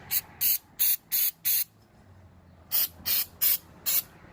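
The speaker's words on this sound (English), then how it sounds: "I said I'd spray that nipple just for fun, that sensor." Short hissing blasts of an aerosol spray onto an engine sensor of a 1996 Toyota Corolla, five quick bursts, a pause, then four more, loud and close.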